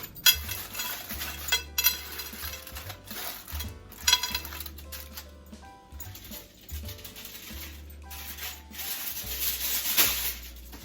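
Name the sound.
ham being wrapped tightly in aluminum foil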